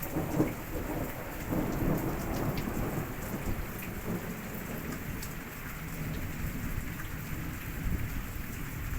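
Heavy rain pours down steadily, with deep rumbles of thunder rolling underneath throughout; no voices.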